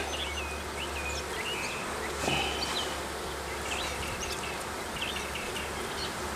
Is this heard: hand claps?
no